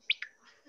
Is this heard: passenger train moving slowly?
no